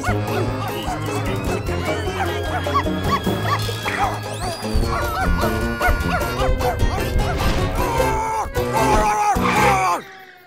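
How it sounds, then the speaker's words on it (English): A cartoon dog barks and yips repeatedly in an animated VeggieTales adventure, mixed with busy background music and effects, with whimpering-like sounds amid the commotion. "dog barking?"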